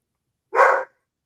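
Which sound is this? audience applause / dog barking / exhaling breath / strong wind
dog barking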